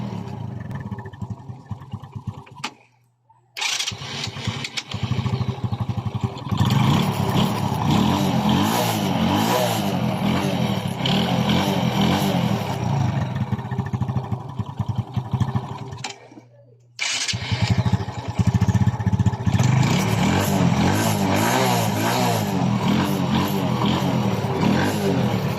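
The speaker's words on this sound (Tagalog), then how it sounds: "kaya pandarin natin ng motor" A Honda XRM 110 motorcycle engine starts quickly on its electric starter and runs loudly at close range, idling and revving steadily, with two brief cutouts where the sound stops before the engine resumes.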